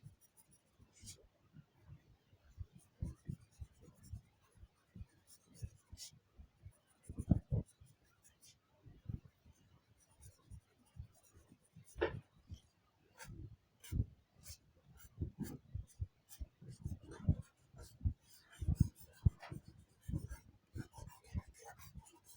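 HB pencil sketching and shading flowers on paper, soft scratchy strokes in irregular bursts, some quick and sharp, close and quiet, with faint breathing or low talk at times.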